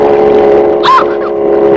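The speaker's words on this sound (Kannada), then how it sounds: "ಹೇಗಿದೆ ನನ್ನ ಬೋಟು? Indian boat." An Indian boat's motor drones steadily and loudly at close range, with a brief rising whine near the middle of the short stretch.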